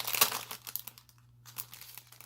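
Plastic wrapping crinkles and rustles as it is pulled off a pack of Christmas craft dies, a sharp burst up close followed by softer, scattered crackles.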